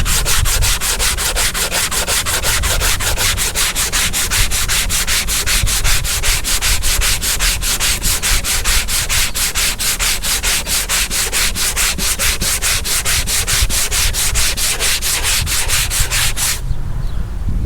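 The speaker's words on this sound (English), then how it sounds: "I'm finished up with all the sanding as far as the 80 grit." Sandpaper of 80 grit scrubs a Chevy Caprice LS Brougham roof in rapid, steady back-and-forth strokes, a loud continuous rasping close to the surface that stops abruptly near the end.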